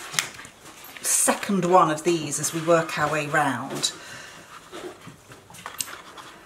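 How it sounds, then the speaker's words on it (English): A dog pants and snuffles close by while a person talks over it. "That's my dog investigating under the table."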